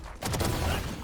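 A burst of edited-in explosion and gunfire-style sound effects, rapid overlapping booms and crackles that fill the short moment loudly with no pause.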